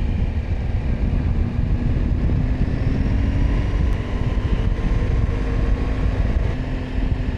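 A motorcycle engine drones in a steady, constant low rumble with wind noise, moderately loud and without talk, near a campsite in Norway.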